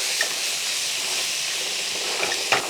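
Tomatoes, chilli and okra sizzling in a pan as a spoon stirs and presses them, a steady hiss of frying with a few light scrapes and clinks, close and alone.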